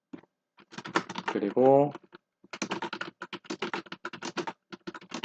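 Quick clicks of typing on a computer keyboard come in short bursts. Someone speaks over and between them.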